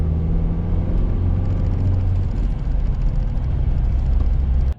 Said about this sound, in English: Get up to 50 miles an hour, brake progressively until you reach 10 miles an hour, and then repeat that.